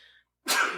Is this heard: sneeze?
yes